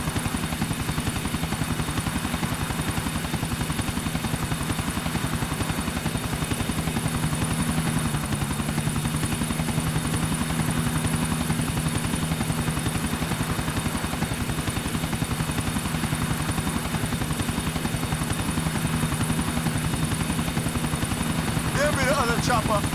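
Helicopter in GTA 4 whirs steadily throughout, a loud, unbroken rotor drone with rhythmic chopping beneath it, holding constant level for over twenty seconds with no speech.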